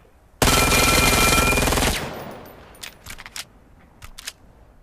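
A fast SMG bursting in the VR shooter Vail, one dense continuous burst of about a second and a half, loud and close, followed by a few light clicks and clacks of handling.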